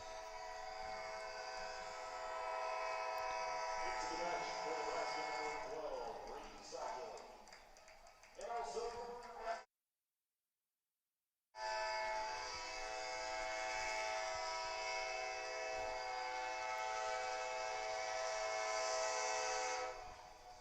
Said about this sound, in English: the blaring train horn going by that's so synonymous with the stadium